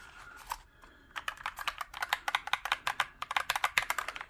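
Someone types on a Dareu A87 RGB mechanical hot-swap keyboard, a brief pause giving way to a rapid, crisp run of clicking keystrokes heard up close with no talking.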